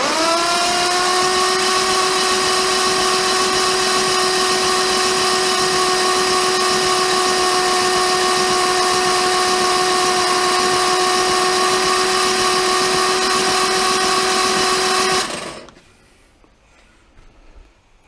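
An Armstrong Siddeley Special car engine spins over on the starter with an oil pipe removed, a loud steady whirring drone with a strong whine that runs unbroken for about fifteen seconds, then stops abruptly into quiet.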